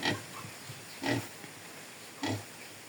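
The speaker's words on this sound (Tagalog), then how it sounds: "May baboy pa silang alaga" Pigs kept on a small backyard mini farm give three short grunts spaced about a second apart, close by and moderately faint.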